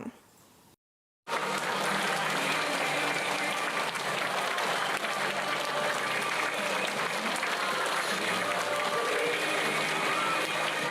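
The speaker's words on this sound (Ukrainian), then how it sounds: "Оплесками та зі сльозами на очах зустріли в стінах Дубровицького ліцею ветерана війни Віталія Вереса." Students and staff at a lyceum in Dubrovytsia, Ukraine, applaud to welcome a war veteran: after a brief silence, loud, sustained clapping from a sizeable indoor crowd continues steadily to the end.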